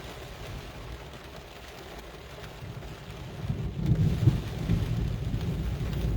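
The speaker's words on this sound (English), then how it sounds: "There's the lightning." Thunder rumbles low and builds to a louder swell midway through a steady rain during a storm, with no talking.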